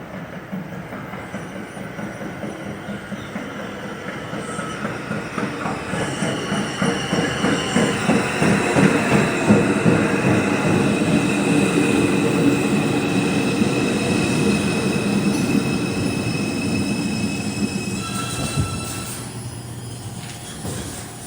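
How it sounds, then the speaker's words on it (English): An R142 subway train on the 2 line pulls into Gun Hill Road station on the elevated Dyre Avenue Line, loud and close, with wheels clacking over rail joints, rising then fading metallic squeal, and a steady rumble as it slows. "This is an Eastchester Dyre Avenue bound 2 train."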